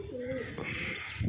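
A pigeon in a loft gives a short, close coo with a warbling tone, followed by a low rustle at the end.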